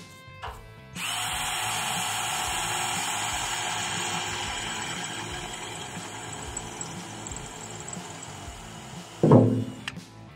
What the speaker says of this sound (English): I'm starting out with the 3/16 at first for a pilot hole, and then go into a 1/2-inch hole.